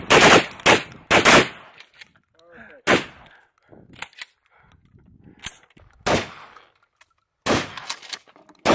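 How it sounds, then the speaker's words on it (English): Several shotguns blasting at pumpkins outdoors: sharp, loud reports in quick bursts and scattered single shots, with short silences between them and faint talk and cheering. "Here comes the shotgun firing squad."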